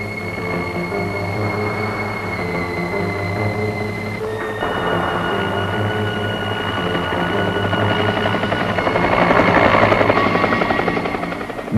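A helicopter flies over a quick clay landslide scarp in the evening, its steady rotor chop and turbine whine loud and continuous, with the engine tone shifting and swelling as it passes closer.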